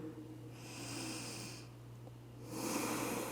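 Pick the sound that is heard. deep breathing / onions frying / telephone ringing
deep breathing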